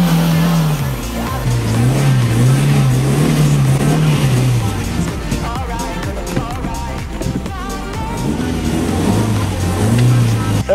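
A car rolling on a 3D-printed wheel, rear-wheel drive, gives a loud, steady engine drone with rising and falling revs and rumbling road noise, while people talk over it.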